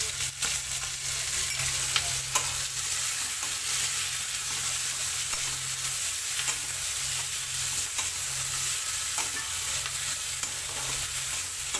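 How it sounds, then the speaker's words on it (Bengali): Onion and green chilli frying in oil in a pan, producing a loud, steady close sizzle with light crackling and occasional stirring scrapes, continuous and without voices. "পেঁয়াজটা ঢেলে দেবো এখন, পেঁয়াজ আর লঙ্কাটা ভেজে নেব"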